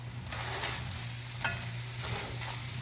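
Onion cooks in a pan for taco filling, giving a soft, steady sizzle with a few brief scraping stirs and an underlying low hum, close by and without speech.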